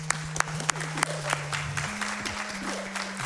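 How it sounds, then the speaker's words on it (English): An audience at a speedrunning marathon event applauds over retro game music, with scattered claps and several sharper claps near the start. "That deserves a clap."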